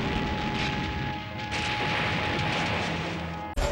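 Bomb blast explosions as a sound effect, a heavy rumbling roar with a fresh surge at about a second and a half, loud and sustained, then a sudden cut and another burst at the very end.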